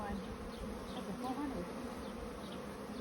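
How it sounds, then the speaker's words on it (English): Dense, steady buzzing of many honeybees inside a brood nest hive, close and continuous, with a few individual bees droning past now and then and no clear speech. "There's a lot of bees in there, a lot of young bees"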